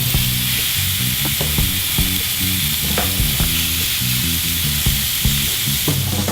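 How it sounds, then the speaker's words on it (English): Wagyu beef burgers sizzle on a grill with a loud, steady crackle and spitting of fat, close up and continuous without any talking. "Alright, now these burgers go straight on the grill."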